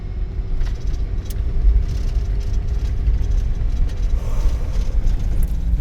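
An RV engine labors hard on a steep road without shifting gears, a loud, steady low rumble and drone heard from inside the vehicle with no talking.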